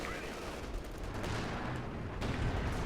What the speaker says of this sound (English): artillery is absolutely killing that Panzer headquarters